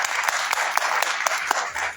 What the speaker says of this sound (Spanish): Vamos a dar un aplauso fuerte al maestro